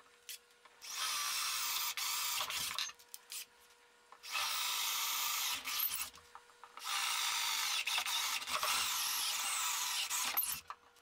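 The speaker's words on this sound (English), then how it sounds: "So I'm just gonna go ahead and drill those." A power drill bores half-inch holes into wood in three long bursts, each lasting a couple of seconds, with brief pauses between them, close and steady.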